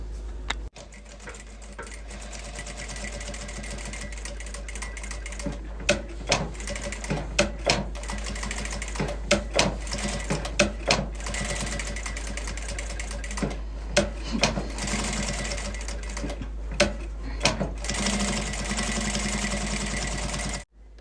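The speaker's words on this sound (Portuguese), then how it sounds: "vou começar a costurar com retrocesso" A domestic sewing machine backstitching fabric, running in a continuous rapid mechanical chatter for most of the stretch, broken by short pauses and sharp clicks at the reversals, loud and close.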